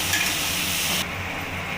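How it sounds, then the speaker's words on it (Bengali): Onions frying with salt in a pan are stirred, giving a steady, close, continuous sizzle with soft scraping throughout and no talking. "এবার নুন দিয়ে ভালো করে নাড়িয়ে দেবো"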